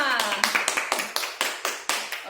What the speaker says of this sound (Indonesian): Kita berikan tepuk tangan aplaus untuk kita semua.